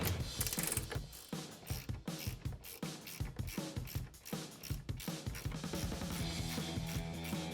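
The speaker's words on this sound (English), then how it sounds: "This is going to make life a lot easier just ratcheting back and forth." A 16mm ratcheting wrench clicks steadily back and forth while backing nuts off a RAM 1500 during a suspension lift install, close, busy metallic ratcheting in quick repeated strokes.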